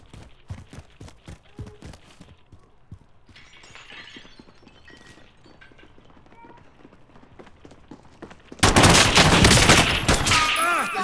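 Heavy burst of automatic gunfire in Call of Duty: Modern Warfare, erupting loud near the end after a stretch of quieter footsteps, clatter and scattered sharp shots, with a voice briefly heard.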